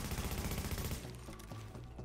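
Rapid automatic gunfire in the shooter game The Division, a dense, loud stream of shots that fills the first second and then continues in thinner, spaced bursts.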